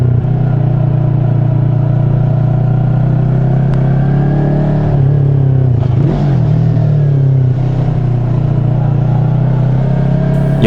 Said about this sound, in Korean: 여기를 오토바이로 가는 거는 처음인데